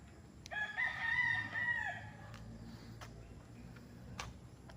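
A fighting cock crows once on a farm in Nagcarlan, a drawn-out, somewhat distant call over a low rumbling background with a few faint ticks and no talking.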